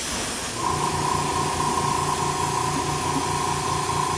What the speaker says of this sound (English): I'm not putting much pressure on my airbrush there. I'm just pulling it back slightly.